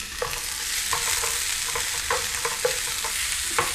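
Onions sauté in a pan with a constant bright sizzle, broken by repeated scraping and clicking strokes of a utensil stirring them at an uneven rhythm.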